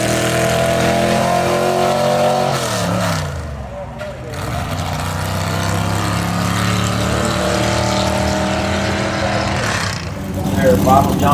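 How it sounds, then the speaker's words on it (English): Gasser drag race car running down Mooresville Dragway on a Saturday night, a loud sustained engine roar that rises and shifts pitch, with a commentator talking over it throughout. "So looks like Leslie Horn may just take the green right here and move on down the racetrack"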